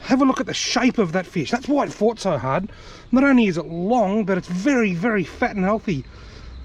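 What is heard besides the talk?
No everyday noises stand out.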